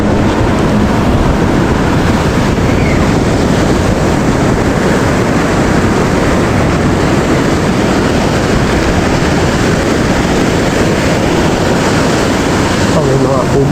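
Large ocean waves break on a beach lined with small huts, a loud, continuous rushing surf with heavy wind buffeting the microphone throughout.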